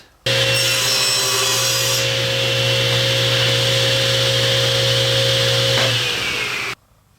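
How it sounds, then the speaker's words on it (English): A table saw making a single pass to cut a groove in wood, 3/4 inch from one end: a loud, steady motor whine with a bright cutting rasp that holds for several seconds, then winds down as the blade runs out of the cut. "so that I can cut one pass with the table saw"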